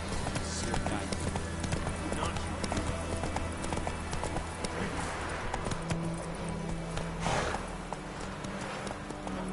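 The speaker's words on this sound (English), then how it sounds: "Run, Roach" Horse hooves gallop in The Witcher 3, a rapid steady clip-clop rhythm carried throughout under game sounds and faint voices.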